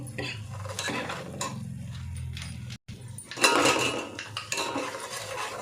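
Chicken is mixed with chilli powder, salt and biryani masala in a bowl, with clattering dish and utensil clinks and scraping throughout, plus a brief gap and a louder burst of clanking midway.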